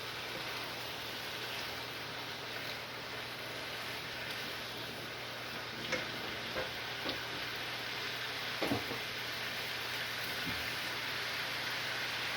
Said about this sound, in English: The sizzle, what I want.